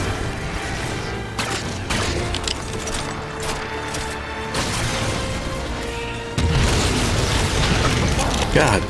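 Incineration cannon blasts in a Halo video game, loud continuous booming and crashing explosions with a heavier surge near the end, while someone talks over the din.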